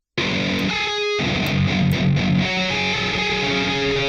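A heavily distorted high-gain djent guitar tone from the Bias Amp 2 amp simulator rings out with sustained, gritty overdriven chords, loud and up close with no voices.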